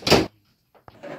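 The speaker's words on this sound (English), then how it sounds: "Don't you dare slam that door, Justin!" Household door slammed shut in a home, one loud sharp burst followed by a brief silence and then a smaller rattle, with no talking.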